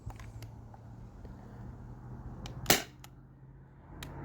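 A Sabre 68 home defense launcher fires a single sharp shot, a brief loud crack standing out over quiet outdoor background with a few faint clicks.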